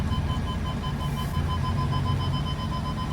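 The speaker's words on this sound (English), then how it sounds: "this absolute orchestra of parking sensors" Several car parking sensors beep steadily inside a Bentley in a tight garage with pillars, overlapping tones pulsing together over a low engine hum with no talk.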